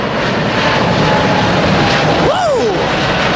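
Air China cargo plane taking off at LAX, with a loud sustained engine roar that stays steady throughout and a brief whistling tone sweeping near the end.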